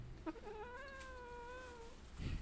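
A pet cat, being held and shown, lets out a drawn-out, wavering meow that rises and holds for over a second, fairly quiet and close, with a small bump of handling noise after.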